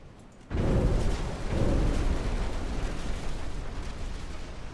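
A torpedo strike explodes in the naval combat game Ultimate Admiral Dreadnoughts, bursting suddenly from near silence into a loud, sustained roaring blast that rumbles on with a slowly fading tail.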